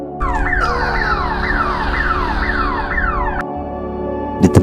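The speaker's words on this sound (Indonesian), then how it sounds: "Namun terdengar suara alarm" An alarm rings through a tense film scene with a loud rising and falling electronic wail over a steady low drone. It cuts off abruptly near the end, followed by a couple of sharp thuds.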